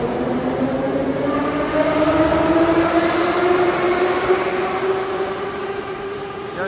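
A Saint Petersburg subway train rumbles steadily along the track, with rising whine-like tones from the motors layered over a continuous, fairly loud roar.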